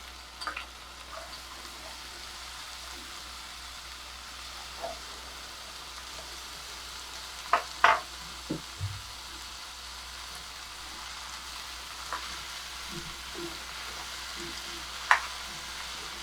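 Faint, steady sizzle of cauliflower, potato and peas cooking in a pan with tomatoes, broken by a few soft clicks and utensil taps, close but quiet throughout.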